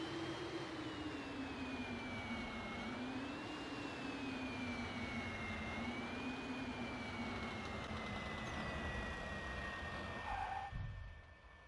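F-100 Super Sabre jet engine in the IL-2 1946 flight game during landing, a steady loud whine with a low droning rumble whose pitch slowly wavers, then drops and fades abruptly at the end.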